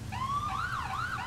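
A police car siren on a 2011 Ford Taurus in GTA IV wails in a rising and falling sweep, loud and close, with a low engine hum underneath.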